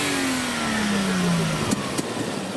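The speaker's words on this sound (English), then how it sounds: "Yes, yes, yes, we know you can rev." A Japanese car engine revs at a car show, its pitch sweeping steadily downward as the revs fall away, followed by a couple of sharp clicks near the end.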